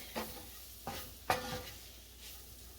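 Flour being stirred into beef and mushrooms in a pot for stroganoff, three quick scraping strokes of a spoon over a faint steady sizzle, quiet and close, without speech.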